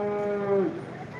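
A cow at a Modnimb livestock market, a high-yield dairy animal, lets out a single drawn-out moo that bends downward at the end, close and clear against quiet background.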